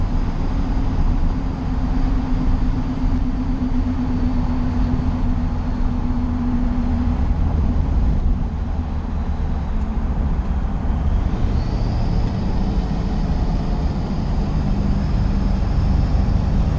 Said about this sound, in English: I think maybe what I've got now is just tire noise.